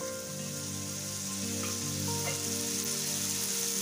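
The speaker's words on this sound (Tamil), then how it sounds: "இதை ஒரு மூடி போட்டு ஒரு 5 மினிட்ஸுக்கு இந்த தக்காளிய வேக வச்சுக்குவோம்." Tomatoes and chillies cook under a lid in a pan for a spicy chutney, giving a steady, close sizzle with faint bubbling and a couple of soft pops, no voices.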